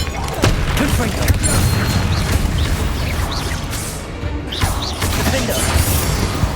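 Fire spells cast during Hogwarts Legacy combat burst as booming, crashing impacts over a dense, continuous wash of game effects and music, with a few brief tonal flourishes.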